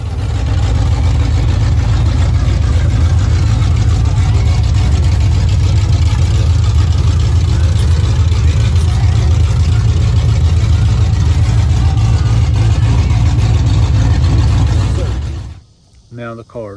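A Mercury Cougar engine runs steadily with a deep, rumbling idle, loud and close for about fifteen seconds before cutting out abruptly into quiet.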